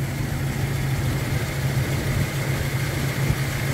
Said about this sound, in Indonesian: Setelah proses tuning selesai, suara mesin lebih halus, getaran lebih berkurang